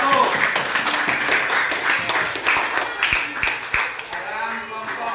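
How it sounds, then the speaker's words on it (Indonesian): Classroom applause for a student group during a primary-school science lesson, a short burst of scattered hand claps with some distinct sharp claps standing out, mixed with children's voices chattering underneath. "Tepuk tangan untuk kelompok 1."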